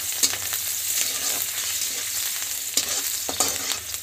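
Onions fry in hot oil with five-spice seeds, a steady close sizzle broken by a few sharp stirring clicks and scrapes, with no talk.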